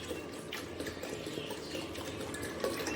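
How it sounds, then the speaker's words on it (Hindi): Water pours steadily into a container while making falsa juice at home, a continuous soft splashing trickle, close and fairly quiet, with no talk over it. "बस इतना पानी डाल दूँगी मैं,"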